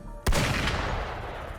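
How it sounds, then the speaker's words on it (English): Gunfire from the video game Wuthering Waves: a single sharp, loud shot cracks out and rings into a decaying boom tail. "Gunfire! We've got intruders."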